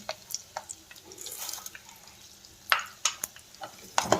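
Chana dal and urad dal frying in a little oil while being stirred, giving soft crackles, light sizzling and scattered scraping clicks from the pan, faint and close.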